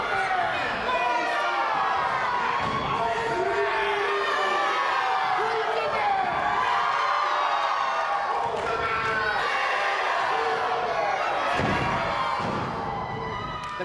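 A wrestling crowd at a PPW Mayday event cheers and shouts for Rhyno, a dense, loud roar of many voices with rising yells and thumps throughout.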